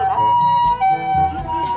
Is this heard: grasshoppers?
no